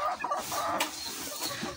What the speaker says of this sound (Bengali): এগুলো হচ্ছে পলিশ কেপ প্রজাতির মুরগি।